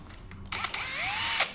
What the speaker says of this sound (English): I have got a drill sharpener down there